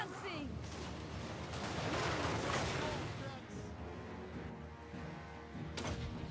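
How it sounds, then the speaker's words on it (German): Cannons fire in a Warhammer 3 battle, heavy booming blasts and rumbling impacts at low volume under someone speaking German, with a sharp burst near the end. "Jetzt schicken wir dann doch mal die Kanonen jetzt hier ran."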